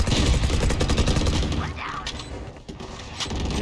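Rapid bursts of Vandal rifle fire in the video game Valorant, loud and close, with repeated cracking shots in quick succession running under excited chatter from players.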